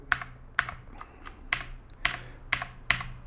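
Keys on a mechanical RGB keyboard are pressed one at a time, about seven crisp, clacky strikes spaced roughly half a second apart, close and clear with no voices.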